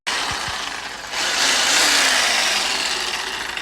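A Sawzall reciprocating saw bites into metal in an engine bay, a loud, continuous rasping buzz that surges and holds after a couple of quick knocks at the start.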